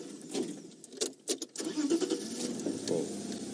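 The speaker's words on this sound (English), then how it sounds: "We're just going to start the car." A safari game-drive vehicle's engine being started, with a brief cranking burst that catches into a steady running rumble close by, preceded by some light rattling and handling noises.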